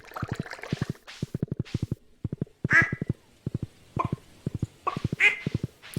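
Chickens in the Stardew Valley video game cluck in quick rhythmic bursts of short pulses, with a few higher squawks mixed in, clear and close with gaps between bursts.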